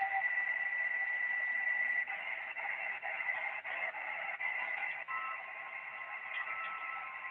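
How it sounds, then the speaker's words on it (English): A faint, steady tone sits within band-limited radio hiss, holding continuously for several seconds with small periodic flickers in the static. "That's another continuous tone."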